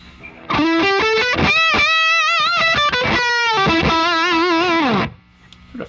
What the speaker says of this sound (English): Let's kick on the Distortion Plus.